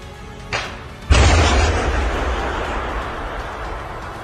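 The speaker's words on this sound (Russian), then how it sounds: "Внимание, выстрел!" An anti-tank guided missile launches with a muffled thump, followed by a sharp explosion blast that trails off into a long rumbling roar fading slowly.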